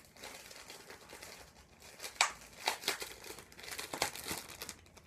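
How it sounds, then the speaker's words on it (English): Crinkling of a plastic bag as broken e.l.f. bronzer powder is dumped into it, with irregular rustling bursts that swell and crackle up close, no talking. "I'm going to try to open this like in the plastic bag just so I don't lose as much product."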